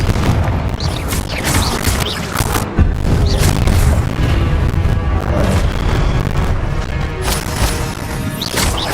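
Repeated Confringo fire spell blasts in the Hogwarts Legacy game, a continuous barrage of loud, heavy booms and crashing impacts rolling together for several seconds with no clear pauses.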